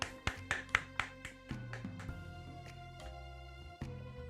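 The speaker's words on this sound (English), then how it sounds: "Clap, clap, clap." Hands clap sharply several times near the start, a quick run of crisp close claps that thin out, set against sustained musical tones underneath.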